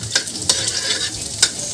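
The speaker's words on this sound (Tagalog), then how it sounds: "Gisa muna natin yung bawang mga love." Garlic sautés in a hot pan with a steady sizzle and a few sharp scraping stirs, close and loud.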